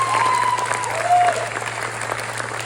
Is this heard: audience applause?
yes